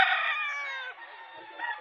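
Golden Boy Sweater gamefowl rooster crowing once, a single loud, close, drawn-out call that fades and rises slightly at the tail, with no talk over it.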